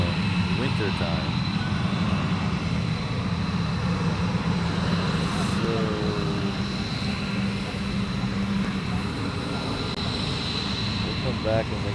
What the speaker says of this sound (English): This is a NOAA aircraft. It's a weather aircraft.